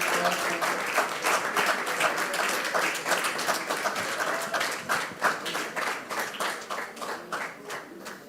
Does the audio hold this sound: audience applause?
yes